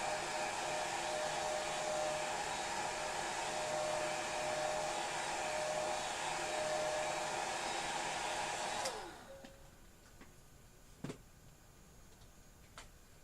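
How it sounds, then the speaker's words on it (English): A hair dryer blows with a loud, steady roar close by for about nine seconds, then switches off, leaving a quiet room with a couple of faint clicks and taps. "Oh, I got this dryer on."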